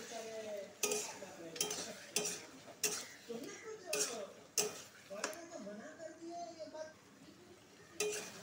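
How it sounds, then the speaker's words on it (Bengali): Ginger, garlic, cumin, coriander and chili paste fry in a pan for a yogurt potato curry with prawns, with repeated sharp scraping stirs of a spatula over a low sizzle, while a voice murmurs in the background. "এই মশলার সাথে আবার একটু ভালো করে ভাজবো।"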